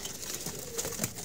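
Soft pigeon coos sound a few times amid faint rustling background noise, quiet and somewhat distant.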